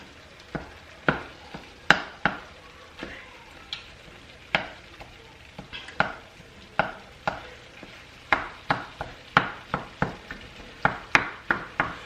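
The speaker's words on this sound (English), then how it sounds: "I'm just going to take my spoon and start kind of breaking up my rice" A spoon scrapes and knocks against a pan while breaking up shrimp fried rice, sharp repeated taps in an uneven rhythm over a soft, continuous sizzle of frying, close and without talk.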